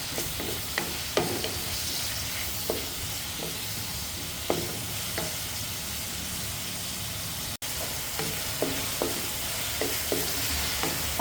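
Tomatoes sautéing in hot oil in a pan while cooking ginisang ginamos, a steady soft sizzle with scattered small pops and stirring clicks, no talking.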